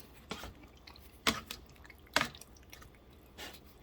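A spoon stirs thick black bean salsa chili simmering in a pot, making four soft, wet squelches spaced a second or so apart, close and quiet.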